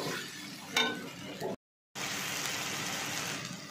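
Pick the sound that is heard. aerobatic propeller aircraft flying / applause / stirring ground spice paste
stirring ground spice paste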